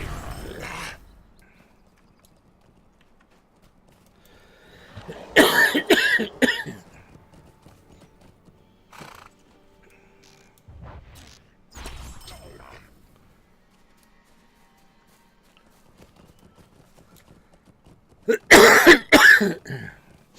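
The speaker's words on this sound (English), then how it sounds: "Here we go with the coughing." A man coughs in two loud, harsh fits several seconds apart, with a few quieter coughs and throat clears scattered between them and long quiet gaps in between.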